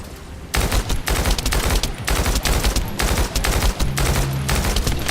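Rapid automatic gunfire in the shooter video game The First Descendant, dense loud bursts of shots in quick succession after a brief quiet start, continuing with short gaps for several seconds, no talking.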